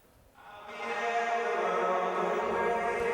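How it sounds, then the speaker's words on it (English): Soloed reverb return from a vocal track in a dance music mix: a washy, diffuse tail swells in after a quiet start and hangs as a smooth, steady wash of tone. "So the reverb solo sounds like this."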